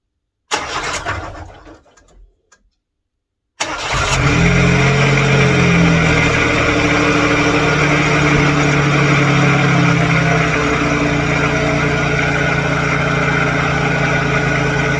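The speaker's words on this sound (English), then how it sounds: "I'm gonna give it 2 short revs" A supercharged Daewoo Matiz engine cranks and catches after a brief silence, then runs close and loud with a couple of short blips of revving before settling into a steady idle, no speech over it.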